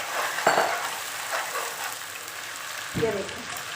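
Beef brain (maghaz) drops into hot oil in a pan with a sharp sizzle, then the frying settles into a steady crackle, with a second burst near the end as it gets a stir.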